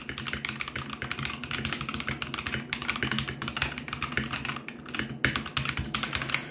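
Rapid, steady typing on a budget 60% mechanical keyboard, such as an AKKO 3068B, YUNZII SK61 or CQ63, with lavender purple switches. The clicks and clacks are dense and continuous, close up and alone.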